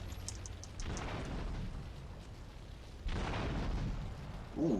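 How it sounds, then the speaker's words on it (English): Low rumbling booms of explosions in Grand Theft Auto III Definitive Edition, two broad bursts a few seconds apart, fairly faint against a steady background. "Ooh, the explosions is nice."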